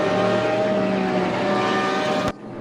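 Race car engine in the sim racing game RaceRoom Racing Experience, a loud, steady, harmonically rich engine drone held at constant revs before cutting off sharply near the end.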